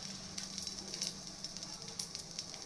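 Oil heating in a kadai for tempering a tomato-free chutney gives a steady, fairly quiet sizzle with occasional small crackles throughout.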